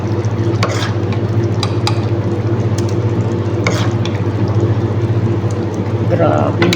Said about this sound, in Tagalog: Lalagay na natin dyan ang ating shrimp. Ayan, lagay na natin.